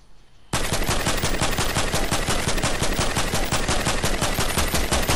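Rapid, continuous automatic gunfire from the Fortnite video game erupts after a brief quiet start and then hammers on loudly and steadily without a break.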